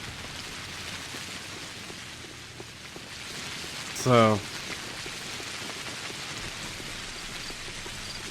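Pouring rain in the video game Pathologic HD hisses as a steady, soft wash throughout, while someone briefly speaks a single word partway through.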